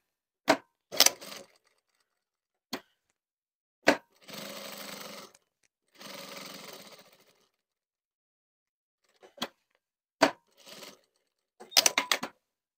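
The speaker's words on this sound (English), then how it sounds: "I'm going to machine up these, join that top stitching from underneath, come up, and then do a row of top stitching across the top" A sewing machine top stitches a flap pocket in two short, steady runs of whirring, surrounded by sparse sharp clicks and taps from handling the fabric and machine. The room is otherwise quiet.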